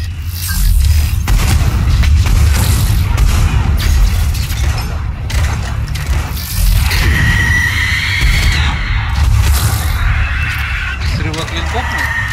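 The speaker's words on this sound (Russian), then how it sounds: "Банши стоит. Она хоть и в меня стреляет" Heavy booming gunfire from a Banshee enemy in a Mass Effect 3 co-op battle, a dense continuous rumble of blasts and shots, loud and close throughout.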